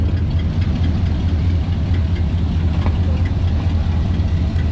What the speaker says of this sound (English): that's a Chevy engine, right?